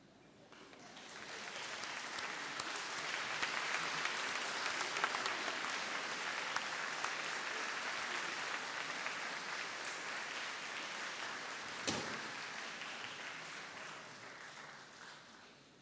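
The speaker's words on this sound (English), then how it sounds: "give a round of applause to your family and friends for all they have done to you" Graduates applaud their families and friends at a University of Manchester degree ceremony, a large hall of clapping that swells in, holds steady for many seconds, then slowly thins, heard from a distance.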